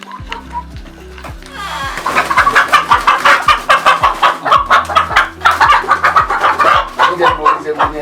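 Chickens cluck close by in a steady, busy rhythm, with a few louder rooster calls mixed in.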